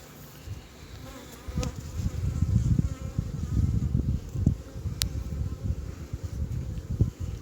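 Dense, steady buzzing of many honeybees swarming close around an open hive, with low rumbling handling noise and occasional faint clicks.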